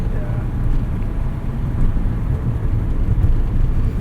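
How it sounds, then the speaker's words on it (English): A 1971 Datsun 240Z straight-six running on the road, heard from the cabin as a low, steady engine drone mixed with wind and road rumble while people talk. "the straight six here sounds so industrial"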